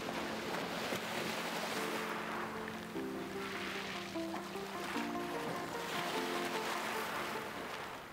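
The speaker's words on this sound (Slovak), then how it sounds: "Voda je perfektná a vlny sú úžasné." Sea waves wash steadily along the shore at Primošten, a constant broad surf roar with some wind noise and faint tonal sounds mixed in.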